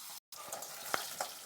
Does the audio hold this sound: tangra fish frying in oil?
yes